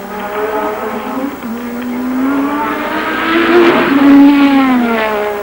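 Formula 1 race cars at the 1986 Spanish Grand Prix, an engine howl rising steadily in pitch and loudness as the cars accelerate, sustained and close throughout.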